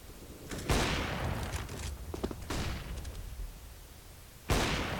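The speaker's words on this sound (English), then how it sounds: "Johnny opening up Tronic with the AK" Rifle fire from an AK in a competitive shooter video game, with sharp single cracks and short rattling bursts spaced a couple of seconds apart over faint background game noise.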